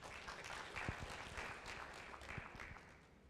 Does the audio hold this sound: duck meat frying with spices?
no